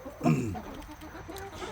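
Cornish cross and American Bresse mix hens clucking, one short, close, soft cluck and then quiet barnyard background.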